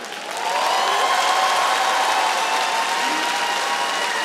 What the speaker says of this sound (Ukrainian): Давайте поаплодуємо команді «Ого».